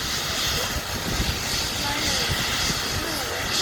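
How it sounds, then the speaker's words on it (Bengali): An ambulance helicopter flying, a loud, steady engine and rotor roar with a broad hiss throughout. "হেলিকপ্টার করে নিয়ে যাচ্ছে"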